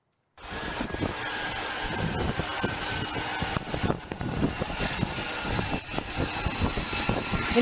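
A roaring jet engine, likely a Marine Corps F-35B stealth fighter aboard the USS Boxer in the Arabian Sea, starts abruptly after a moment of silence and holds as a loud, broad, steady whine and rumble, no voices.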